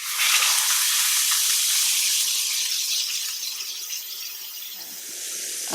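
A thick ribeye steak sears in a very hot cast iron skillet, giving a steady, loud broadband sizzle that holds for several seconds and eases off slightly toward the end, with no talking.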